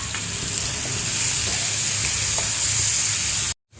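Crushed ginger, chili, garlic and coriander sizzle loudly in hot oil over a low flame, a steady close crackle and hiss that runs unbroken and then cuts off abruptly.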